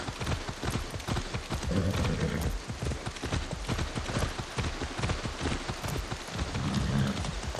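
Horse hooves clip-clop steadily in the Far Cry 6 video game, a continuous rhythmic patter over dense ambient game noise, with no talking.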